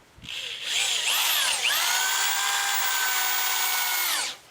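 A power drill spins up and drives GRK screws into wood, its motor whine rising then holding a steady high pitch for about three seconds before winding down, loud and close with no talking.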